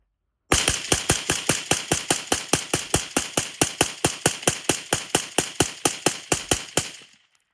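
Rapid, evenly spaced rifle shots fire through a 3D-printed KRUK suppressor, dozens of sharp, loud, muffled cracks in a steady rhythm lasting several seconds before stopping, with no talk.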